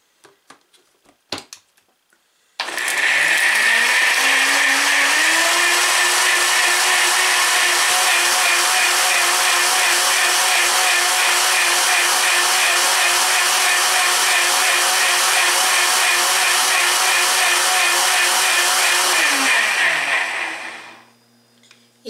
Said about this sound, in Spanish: nada más es de ponerlo en la licuadora